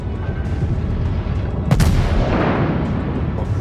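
Naval guns fire and shells land in the World of Warships video game, with a steady rumbling battle backdrop and one sharp, heavy blast partway through before the low thunder continues.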